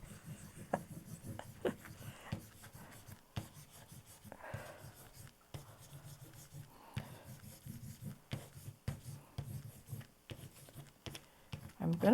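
Pencil or crayon tip scratching and gouging into paper during a distress crayon and graphite transfer art session, with intermittent close scraping strokes and short rubbing bursts, quiet throughout.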